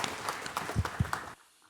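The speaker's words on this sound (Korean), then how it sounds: "영광의 박수를 하나님께 드리겠습니다." Brief congregational applause during a church worship service, a short burst of clapping that stops abruptly, leaving near silence.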